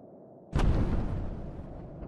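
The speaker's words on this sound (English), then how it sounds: "Explosions!" A single sudden explosion in the video game Fuga: Melodies of Steel, a sharp boom that rolls into a long rumbling decay, loud and heavy in the low end.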